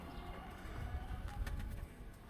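Pigeons coo softly in a low, murmuring run over faint background noise, with a few brief chirps near the end.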